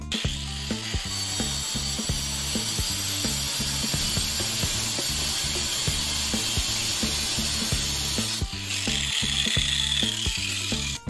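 A seized bolt head being cut off during restoration of a Renault 4L, heard as a loud, close, steady rapid ratcheting clatter of a power tool running continuously, with a brief change in pitch near the end.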